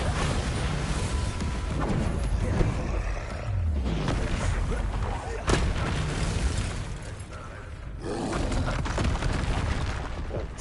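Bombarda explosion spell in a Harry Potter video game, a loud, dense rumble of booming blasts and crashing debris that continues almost unbroken, with brief dips and a sharp crack partway through.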